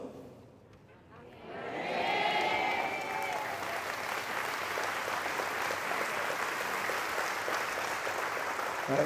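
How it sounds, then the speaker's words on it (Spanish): A church congregation breaks into applause during a homily, starting after a quiet moment with a few voices, then swelling into sustained clapping and crowd noise that continues to the end. "No me convenció ese aplauso."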